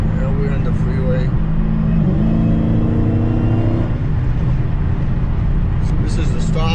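A Dodge Challenger Hellcat fitted with a cold air intake cruising on a freeway, a loud, steady low engine drone with rising and falling harmonic pitch as it accelerates, heard from inside the car.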